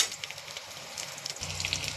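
Lentil fritters for a potato curry frying in oil after being flipped, producing a brief, close, continuous sizzle with small crackles and pops.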